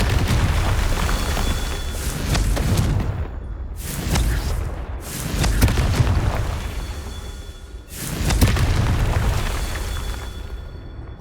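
Confringo fire spells in the Hogwarts Legacy video game go off as four heavy, rumbling blasts, each swelling and fading over a second or two, loud and close with no talk.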